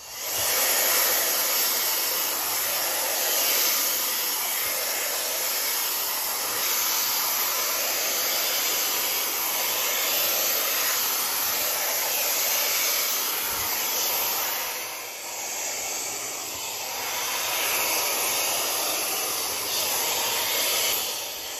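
Tymo AirHype hair dryer with a magnetic comb attachment, used on thick type 4 hair, blowing as a continuous loud close whooshing hiss with a high whine that dips and swells briefly as it moves.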